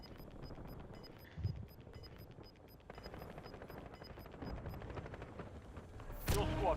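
Rapid gunfire in a Call of Duty Black Ops 6 multiplayer match, rattling along in quick bursts at modest level with faint game sounds between, and a louder burst near the end.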